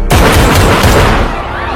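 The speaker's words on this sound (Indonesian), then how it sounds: "akhirnya suara tembakan membuat semua orang pun menjadi bergaduh" Gunfire in an action film sounds as a sharp, loud burst that opens the clip, followed by rapid booming shots and dense rumble that slowly fade.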